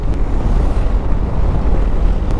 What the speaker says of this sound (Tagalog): Lakas ang hangin, ang lamig.